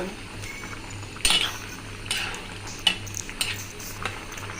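A spoon stirs drumstick curry after coriander leaves are added, giving a few scattered clinks and scrapes against the pot over a low background hum, with no talking.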